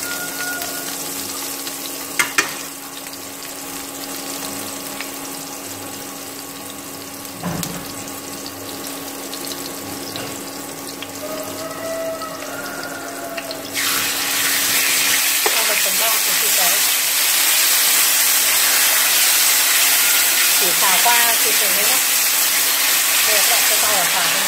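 Garlic frying in a hot pan while cooking chayote with pork tenderloin, starting as a quiet sizzle with some knocks and clatter, then growing into a loud, steady broadband sizzle from about halfway through.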